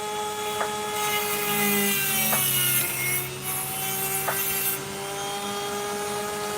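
An opal is ground into a cabochon on a lapidary wheel, producing a steady whining drone and a gritty rasp with faint scraping accents, sustained and close by.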